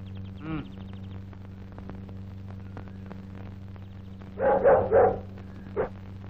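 A dog barks in a short cluster of three or four sharp barks, somewhat distant, over a steady electrical hum in an old Telugu film, with a single earlier bark and one later bark.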